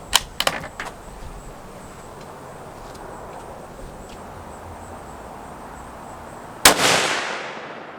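A Savage Axis II .22-250 rifle fires one loud, sharp crack with a quickly fading tail near the end, after a few faint clicks and handling noises at the start.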